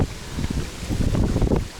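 Strong autumn wind buffets the microphone on a boat on the Psel River while spin fishing, a continuous low roar with gusty surges, close and loud, with no talking.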